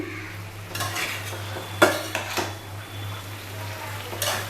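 Pumpkin greens with poppy seeds and mixed vegetables stirred in a pan, a utensil scraping and clinking against metal in a few sharp strokes over a steady low hum and faint sizzle.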